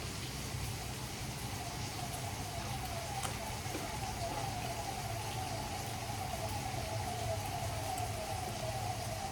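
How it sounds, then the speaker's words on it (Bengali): A faint ambulance siren wails from the street far below a 23rd-floor flat in Mumbai, its drawn-out tone partly buried under constant traffic hum and city noise. "নিচ দিয়ে অ্যাম্বুলেন্স যাচ্ছে"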